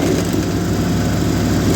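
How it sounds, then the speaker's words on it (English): The engine of a Ferris ProCut 61 riding mower idles with a loud, steady rattle, close by and continuous, with no voices. "It makes a hell of a rattle when it's idling"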